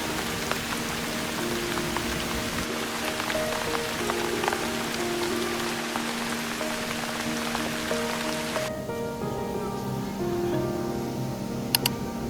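Steady rain pouring at Disneyland, a dense close hiss of drops on surfaces throughout, with faint background tones and a brief sharp tap near the end.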